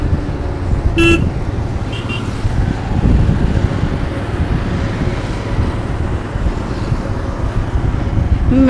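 Busy Pune road traffic rumbles steadily from close by while two or three short car horn toots sound over it, with faint voices now and then.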